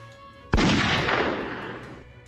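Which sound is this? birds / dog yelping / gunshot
gunshot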